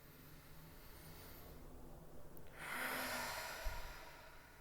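Slow, deep breaths drawn in and let out during a guided relaxation exercise, soft and close with a faint airy hiss and no talking.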